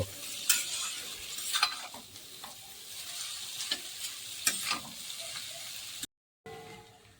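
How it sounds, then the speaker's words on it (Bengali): Boiled chowmein noodles being stirred and tossed in a hot pan for egg chowmein, a soft continuous sizzle broken by repeated scraping strokes of the spatula, with a brief dropout near the end. "এবার এটা খানিকটা নেড়ে তো নাড়তে থাকবো"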